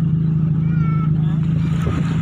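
A Toyota Big Body XE with a free-flow muffler runs close by, its exhaust a loud, steady low rumble that holds an even pitch throughout.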